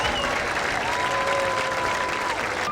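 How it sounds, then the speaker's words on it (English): A stadium crowd at a high school football game gives sustained applause for senior cheerleaders, hip hop dancers and football players, a broad steady wash of clapping heard from a distance with a faint tone running through it. "let's have one final round of applause for all of our cheerleader, hip hop, and football seniors"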